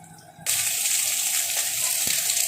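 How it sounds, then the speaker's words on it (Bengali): Loud, steady sizzling of drumstick leaves frying in a hot pan with eggplant, bursting in suddenly after a quiet start and continuing with a few soft stirring clicks. "আমার বেগুনগুলো লাল লাল করে ভাজা হয়ে গেছে, এবার আমি শাকগুলো দিয়ে দেবো"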